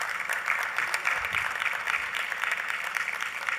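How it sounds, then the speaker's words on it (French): Clapping from a conference audience at an HIV and AIDS gathering in Africa, a continuous, moderately dense round of applause of even loudness, with no voices on top. "Un autre lot d'applaudissements pour Seydina"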